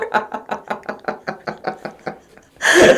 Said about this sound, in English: you start flicking the fucking door. Flicking the door stopper.